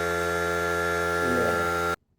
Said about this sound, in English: before I was rudely interrupted by the air compressor